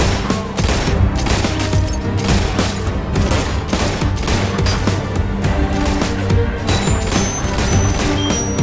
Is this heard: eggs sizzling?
no